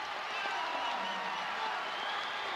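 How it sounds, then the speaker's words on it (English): A packed crowd keeps roaring and clapping at a men's volleyball match, a sustained wash of cheers holding steady throughout. "Crowd still roaring."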